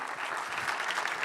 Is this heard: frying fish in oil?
no